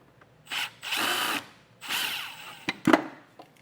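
A cordless power drill backs out the four screws holding a housing during wiring kit work on a 2017 Jeep. Several short whirring bursts rise and stop close by, ending with a couple of sharp clicks and no talk.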